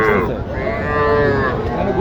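A cow moos with a long, drawn-out low call, close and loud, with faint background murmur at a cattle market in Naogaon.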